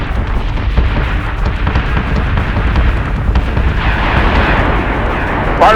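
Heavy, continuous booming barrage of artillery fire and explosions in a Battlestar Galactica Deadlock space battle, loud and rumbling throughout with no break.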